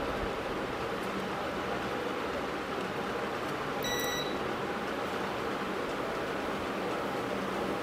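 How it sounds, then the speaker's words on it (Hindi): A multimeter set to continuity gives a short, clear electronic beep once, partway through, while probing ground on an AC circuit board, over a steady hiss of background noise. "ये देखिए ग्राउंड से बीप कर रहा है"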